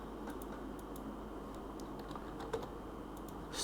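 Quick, light keystrokes tap on a computer keyboard in short irregular bursts, close and fairly faint against a quiet room hum, with no talking.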